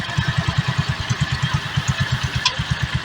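A tractor engine chugs with an even, rapid knock while dragging a big log at a sawmill, close and loud with a steady rhythmic pulse throughout.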